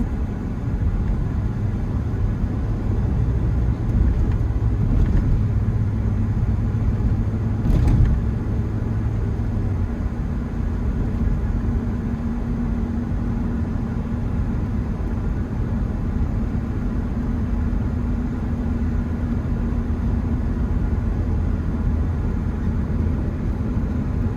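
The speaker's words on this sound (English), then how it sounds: "it really is a fun truck to drive" A 1999 Ford F-150 pickup truck driving on the road, heard from inside as a steady loud low engine drone and road rumble with a sustained hum, continuous and without speech.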